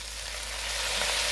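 Kale sweats in a hot pan with hog-bone broth, giving a steady, loud, continuous sizzle and fry hiss close up, with no voices.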